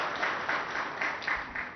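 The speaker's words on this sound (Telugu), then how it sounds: "వారికి ఒకసారి గట్టిగా చప్పట్లతో వారికి ధన్యవాదాలు చెప్పాలని కోరుతా ఉన్నాను." Audience members clap at a factory inauguration for a Wipro Consumer Care plant, a brief, steady patter of applause at moderate distance without clear speech on top.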